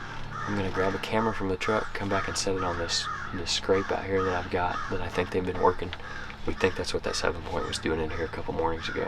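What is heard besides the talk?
crows cawing in the background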